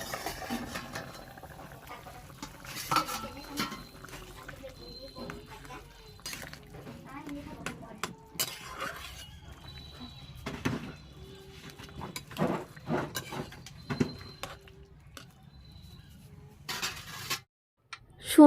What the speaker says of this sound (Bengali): একটুখানি নাড়িয়ে চাড়িয়ে এবার আমি ঢাকা দিয়ে ফুটতে দেবো 7 থেকে 8 মিনিটের জন্য।